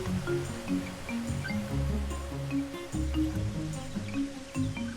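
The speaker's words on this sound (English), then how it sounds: "The water's mild 15-foot drop to the shale below adds a relaxing sound" A small waterfall drops about 15 feet onto shale near a cliff with nesting swallows, giving a steady, close wash of splashing water with uneven gurgles and a faint steady tone running through it.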